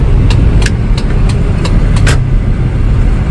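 A 2002 Toyota Kijang LGX 2.0 EFI engine runs loud and steady from inside the car as it shifts into second gear, with a few faint clicks over the continuous drone.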